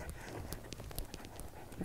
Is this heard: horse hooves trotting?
yes